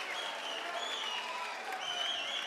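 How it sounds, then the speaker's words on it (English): Crowd at an MMA fight cheers and applauds at the end of a round, a steady, bright wash of clapping with whistles and shouts that holds at moderate distance throughout. "The crowd comes alive."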